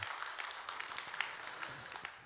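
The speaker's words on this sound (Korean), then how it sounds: "박수 한번 해주셔요." Applause from a church congregation, a steady mass of many hands clapping with scattered sharper claps standing out, moderately distant and sustained throughout.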